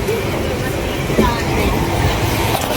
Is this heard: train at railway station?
yes